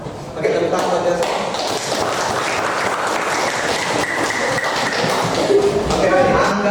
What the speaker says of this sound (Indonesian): Pakai tepuk tangan buat biasa.